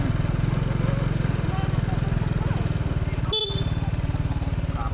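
A motorcycle engine runs close by at a market in Snuol, Kratie, Cambodia, a steady throbbing drone lasting throughout, with a brief sharp click or toot partway through.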